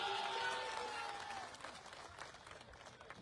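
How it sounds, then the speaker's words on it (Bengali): A crowd at a political rally applauds in a distant, faint burst of clapping that slowly thins out, with a voice heard briefly at the start. "জোরে একটা হাততালি হয়ে যাক"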